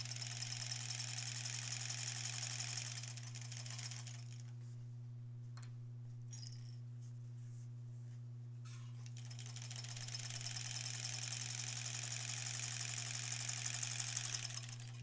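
A home sewing machine stitching a long tote bag seam runs with a steady whirring hum and fast ticking, pauses briefly in the middle, then resumes; no talking.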